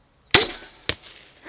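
A Titan crossbow looses a bolt with one sharp, loud snap, followed about half a second later by a second crack, likely the bolt striking a target 40 metres away, with no talk.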